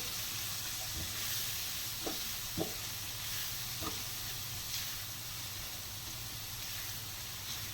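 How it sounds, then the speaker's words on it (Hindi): Food fries gently in a pan for chicken manchurian with egg fried rice, a steady soft sizzle and hiss with a low background hum and a few faint clinks of stirring. "हल्का सा हम इसको फ्राई करेंगे।"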